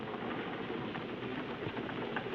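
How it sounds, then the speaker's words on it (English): A quiet, steady crackling and crinkling of cellophane being peeled off a Chesterfield cigarette pack, continuous with small sharp ticks throughout. "The sound of cellophane coming off a Chesterfield pack."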